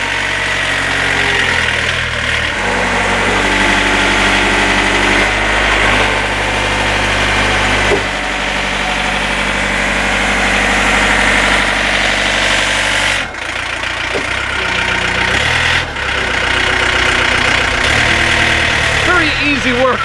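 A 49-horsepower 2.2-litre naturally aspirated diesel engine on a Loadmac truck-mounted forklift idles steadily with a low, throbbing rumble, close by and continuous, with a brief dip in the drone partway through.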